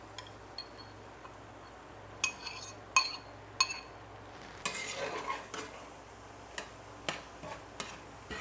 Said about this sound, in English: Now we're gonna go ahead and make a spot in the middle to fry our egg.